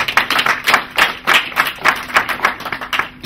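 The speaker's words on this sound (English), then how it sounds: "Would you applaud yourself for coming?" Audience clapping at the WAIMM inauguration in 2016, with distinct claps close and loud in an uneven, fairly rapid rhythm and no talking.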